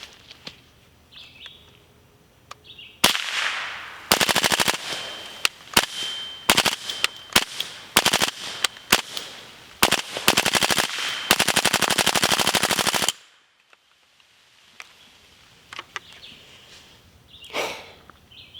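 Rifle with a Dorin X-PRT 90 cross progressive reset trigger firing subsonic ammunition outdoors, sharp rapid shots in quick strings and bursts, loud and close, followed by quieter moments with faint birdsong.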